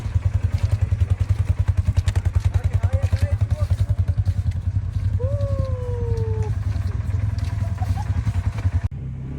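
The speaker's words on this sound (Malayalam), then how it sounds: "ATV ബൈക്കിൽ കുറച്ചധികം തന്നെ മുകളിലേക്ക് പോകാനുണ്ട് കേട്ടോ" An ATV engine throbs in a fast, steady rhythm while climbing uphill through snow in Kashmir. The loud, close pulsing continues for the whole ride and cuts off abruptly at the end.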